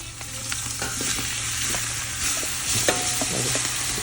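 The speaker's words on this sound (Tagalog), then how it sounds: "Unahin ko lang ilagay yung aking sariwang karne." Fresh beef meets a hot, large cooking pot for papaitan, giving off a steady sizzle and frying crackle with scattered stirring clicks and scrapes throughout.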